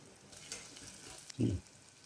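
Curry leaves, onion and ginger-garlic-chili paste frying in a pan, a faint low sizzle with a short louder burst of stirring and crackle midway, quiet and close.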